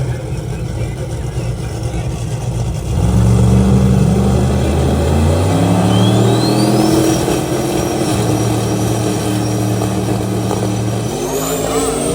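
Drag racing cars launching at Carolina Dragway, loud engines revving and rising in pitch as they accelerate away, with a steady roar of nearby motors and crowd noise throughout.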